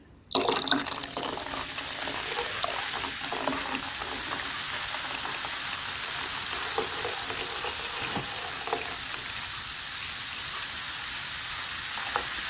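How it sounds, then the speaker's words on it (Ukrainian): Sprite and prosecco pour steadily into a bowl with a continuous fizzing hiss, close and unbroken, after a short bump at the start. "В другу посудину вливаємо 1 літр спрайту і 500 мл просеку."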